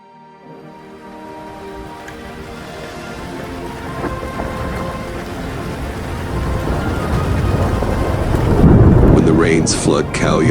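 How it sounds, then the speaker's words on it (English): Heavy rain pours over Khao Yai Forest in Thailand while thunder rumbles, the downpour and low rolling roar building steadily louder toward a close, crackling peak. "Rains flood Khao Yai Forest in Thailand"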